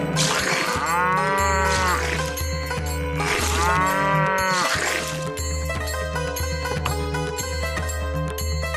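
Cattle mooing twice in long, loud, drawn-out calls, each lasting over a second, over a steady low drone of background music, with no one talking.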